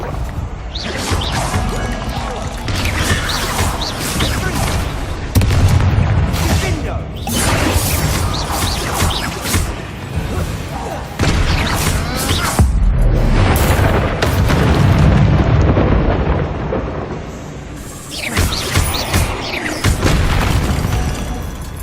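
Repeated Confringo fire-spell blasts in the video game Hogwarts Legacy during a fight with a giant spider, loud booming bursts and crashes recurring over about twenty seconds, with a voice shouting spell names and talking among them.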